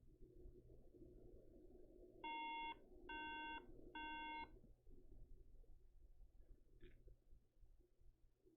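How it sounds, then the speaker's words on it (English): A MacBook emits three short, evenly spaced electronic beeps after the charger is plugged in, clear tones over a low steady background hum, followed by quiet handling noise. "It beeps."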